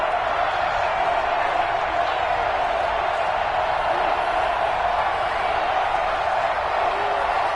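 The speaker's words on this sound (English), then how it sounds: "Crowd getting in it a bit already" Steady stadium crowd roar at a Bengals vs Broncos football game, a dense continuous wash of distant voices and murmur that stays even and loud throughout, with no single cheer standing out.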